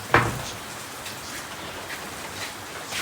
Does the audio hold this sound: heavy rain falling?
yes